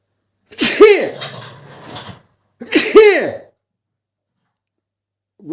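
A bull named Borya, standing by uneaten hay, lets out two loud, close, explosive sneezes about two seconds apart, each with a wheezy tail, followed by silence.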